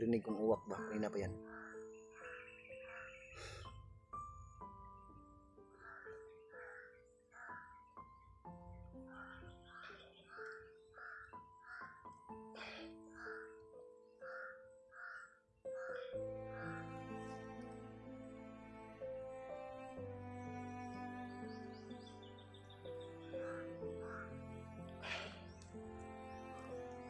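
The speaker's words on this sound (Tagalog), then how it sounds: "naririnig kong uwak ba" Crows caw in short, repeated calls in a rural outdoor setting. Frogs croak and other birds call around them, and some calls are near while others are farther off.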